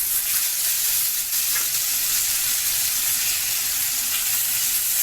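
Pomfret fish sizzles and fries steadily in a hot pan, a close, continuous crackling hiss with no voices over it.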